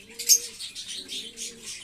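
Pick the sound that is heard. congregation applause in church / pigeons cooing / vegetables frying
pigeons cooing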